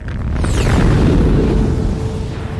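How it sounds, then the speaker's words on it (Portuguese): A supernova explosion sound effect: a loud, deep boom that swells into a long roaring rumble with a sweeping high whoosh, then slowly fades out over a couple of seconds. "imagine o que poderia acontecer quando uma estrela fecha as portas, como uma supernova. Isso significa que elas explodem"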